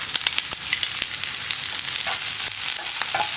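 Chopped onion and green chili sizzle and crackle steadily in a hot oiled pan, a dense frying hiss with scattered pops and occasional stirring scrapes, close and continuous.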